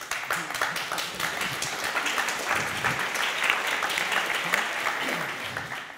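Steady, lively applause from an audience at a Berlin media convention panel, many hands clapping densely and continuously at close range, with no talking over it.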